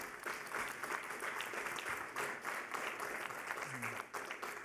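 A forum audience at a maritime corridors event applauds, dense clapping from many hands sustained for several seconds at an even level, with a brief tonal murmur near the end.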